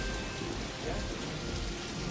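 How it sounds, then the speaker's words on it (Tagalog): Heavy rain pours steadily as a downpour grows stronger, a dense even hiss of drops hitting surfaces, continuous and fairly close with no voices. "Berting, medyo lumalakas ang ulan"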